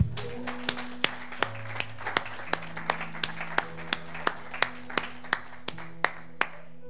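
A church congregation clapping together in a steady, evenly spaced beat, about two claps per second, sharp and fairly close, with a faint sustained tone beneath and no talking.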